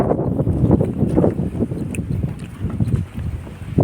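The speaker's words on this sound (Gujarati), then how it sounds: "વાતાવરણ બહુ ખરાબ થઈ ગયું તો કે પવન ને સાટા ને એવું બધું આવે છે" Strong gusty wind blasts across the microphone in loud, uneven surges that rise and fall over a few seconds.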